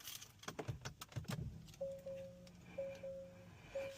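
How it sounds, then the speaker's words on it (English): Keys jangle in an Acura's ignition, followed by a few short, evenly spaced electronic chimes as the ignition switches on, quiet and close. "Turn the ignition on."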